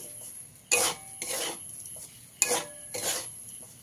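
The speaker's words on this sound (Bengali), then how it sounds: "জল দিয়ে কিন্তু সুজিটাকে অনবরত নাড়াচাড়া করে রাখতে হবে।" A spoon stirs semolina with water in a pan, making four rough scraping strokes in an uneven rhythm, close and fairly loud, with quiet pauses between them.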